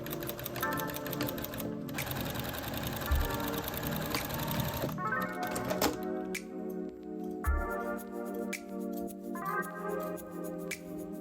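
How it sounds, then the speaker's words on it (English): A sewing machine stitching the sleeve seam of a jacket, its needle running in rapid rhythmic bursts with short pauses between runs, close and fairly loud, no voices. "When you sew, you'll have to bunch up the fabric as you go to make a little tunnel."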